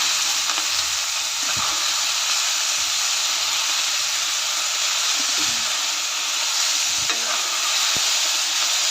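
Chopped fenugreek leaves stir-fry in hot oil with a steady, loud sizzle, scraped now and then by a spatula, heard up close for the whole stretch with no talking.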